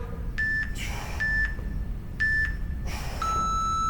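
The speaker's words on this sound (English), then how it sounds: "Okay, there's our timer." A workout interval timer sounds a series of loud, evenly spaced electronic beeps, a few short tones followed by a longer final one, with no talking.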